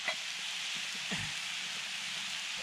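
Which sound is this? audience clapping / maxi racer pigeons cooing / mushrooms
mushrooms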